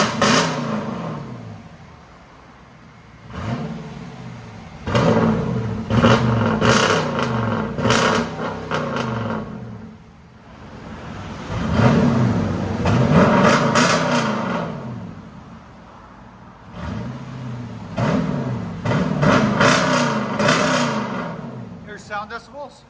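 A 2019 Jeep Grand Cherokee Limited X with a 5.7L HEMI V8 and a muffler delete revs hard in four loud, close bursts, its exhaust note rising and falling with each rev and dropping to a rumbling idle between them.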